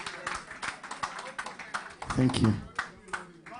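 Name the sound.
audience clapping for an election candidate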